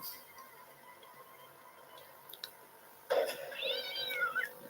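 A cat meows loudly and close by, a single drawn-out call after a quiet stretch of faint background noise.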